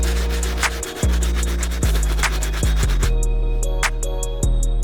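A stiff bristle brush scrubs a sudsy Converse sneaker sole in quick, rhythmic back-and-forth strokes, loud and close, with a brief pause near the start.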